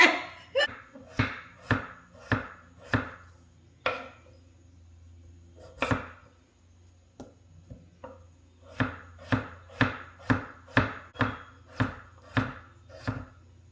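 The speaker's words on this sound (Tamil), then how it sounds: "உருளைக்கிழங்க சின்ன சின்ன துண்டுகளாக வெட்டுறேன்." Knife chopping potatoes into small pieces for a homemade chicken curry: a steady series of sharp, close taps on a board in quick bursts, with brief pauses between runs and a low hum beneath.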